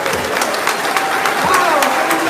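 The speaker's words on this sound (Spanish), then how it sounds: "Un aplauso para los invitados." A church audience applauds invited guests with a steady wash of clapping, while a voice briefly sounds over the crowd.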